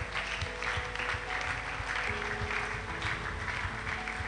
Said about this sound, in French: je vous invite d'acclamer le Seigneur très fort